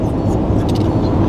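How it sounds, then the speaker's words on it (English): Steady car traffic rumbling along I-35 in Texas, a continuous broadband road roar with no clear gaps or individual passes, heard from inside or beside the flow. "Horrible traffic on I-35."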